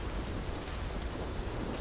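Heavy, even rainfall in a fantasy video game, Dragon's Dogma 2, a dense and unbroken hiss of drops pouring down with no voices or other sounds.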